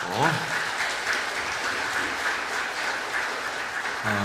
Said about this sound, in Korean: 박수 한번 해주시죠.